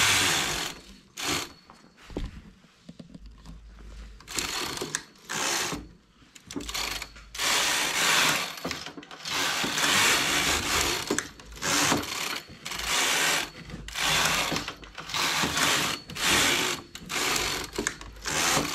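Knitting machine carriage sliding back and forth to knit rows of a headband, repeated loud rasping sweeps separated by brief pauses in a steady back-and-forth rhythm, close and without talk.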